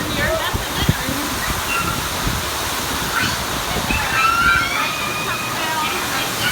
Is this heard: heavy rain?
yes